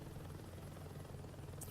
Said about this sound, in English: you fly around in a helicopter, hence the name Heli-Assault